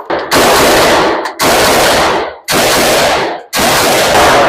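A Zastava AK47 rifle fired on a range, four very loud, close sustained bursts of automatic gunfire separated by brief gaps.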